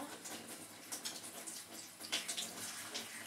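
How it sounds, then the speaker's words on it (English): Water trickling and splashing as a potted vanda orchid keiki is watered up close, a soft continuous pour with brief louder spatters, no talking. "I will water it a bit so I can show it to you"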